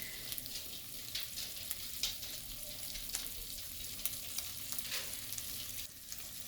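Butter melting in a hot pan gives a soft, steady sizzle with light crackles and a few brief clicks, heard close up with no talking.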